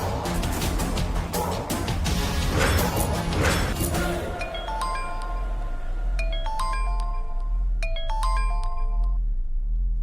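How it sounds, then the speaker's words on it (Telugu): A phone ringtone plays for an outgoing call in a Telugu TV serial scene. It follows about four seconds of loud dramatic music with crashes, then repeating electronic melodic bursts ring out clearly with no talk. "ఆ స్వరూపకు ఫోన్ చేద్దాం."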